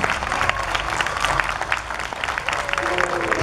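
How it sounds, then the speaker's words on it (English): An audience at a YMCA dance recital gives a volunteer dance teacher a round of applause: dense, steady clapping with some crowd noise, continuous and moderately loud throughout. "Give her a big round of applause."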